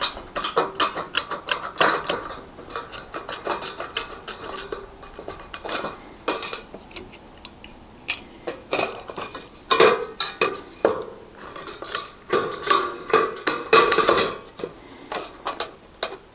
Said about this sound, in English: I'm going to cut right on that little corner right there, and I've got to cut this 45-degree angle